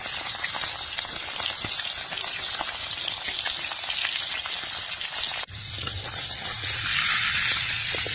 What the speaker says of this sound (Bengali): আমি মাছটাকে এমনি ভাজবো।